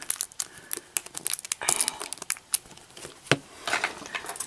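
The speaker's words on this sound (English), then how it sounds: "Let's use our handy dandy scissors to cut into that." A plastic blind bag of Disney Tsum Tsum toys is cut and worked open with scissors, giving close, irregular crinkles, snips and tearing rustles in uneven bursts, with no talking.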